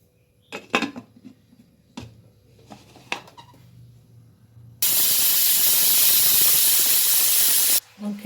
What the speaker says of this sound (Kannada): ಲಿಡ್ ಮುಚ್ಚಿ 1 ವಿಷಲ್ ಕೂಗಿಸ್ಕೊಳ್ಳೋಣ